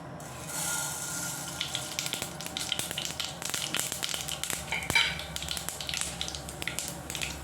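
Mustard seeds splutter and crackle in hot coconut oil, with a steady sizzle under scattered sharp pops that come quicker as the seeds burst. The sound is close and moderately quiet.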